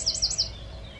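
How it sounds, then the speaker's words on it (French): Birds sing in a countryside garden, with three quick high chirps near the start followed by quiet background ambience. "C'est toujours une bonne vidéo quand il y a le chant des oiseaux derrière."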